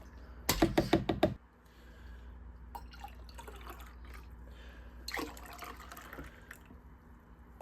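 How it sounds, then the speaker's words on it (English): Fresh pressed juice of celery, carrot, cucumber, apple, ginger and lime is stirred in a container, a quick burst of knocking clinks near the start, then faint soft liquid movement and a few more light taps. "we're gonna give this a stir"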